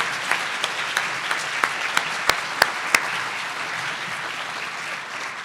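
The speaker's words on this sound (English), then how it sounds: "please just give him another round of applause" An audience at a Boise State University event applauds steadily, a dense wash of many hands clapping at an even level, with a few sharper close claps standing out and no talk over it.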